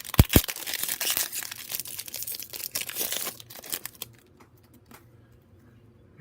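Foil wrapper of a Donruss Optic basketball trading card pack being torn open and the cards shuffled, close crinkling and rustling that dies away to near quiet in the last seconds, no talking.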